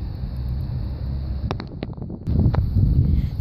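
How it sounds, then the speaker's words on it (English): Wind buffeting a handheld microphone outdoors, a loud continuous low rumble with a few clicks and bumps in the middle before the gusting swells again. "It's pretty windy today."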